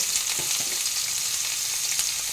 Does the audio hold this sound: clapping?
no